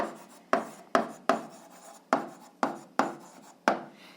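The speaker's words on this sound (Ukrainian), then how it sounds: "Пишемо відповідь" A pen writes an answer by hand on paper, a steady series of about eight quick scratching strokes, close and clear with no talking.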